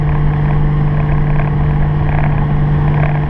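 A Toyota Supra's 1JZGTE engine holds a loud, steady drone near 4000 rpm during a street tune, a constant heavy hum with no break and no voices.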